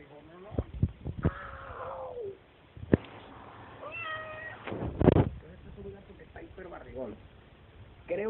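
A cat meows several times up close, with drawn-out, wavering cries, mixed with some handling noise and a few soft sounds nearby.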